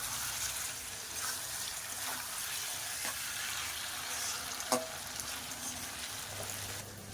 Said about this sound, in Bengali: এবার মাংসটা ভালো করে কষাবো